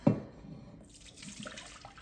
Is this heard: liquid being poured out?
yes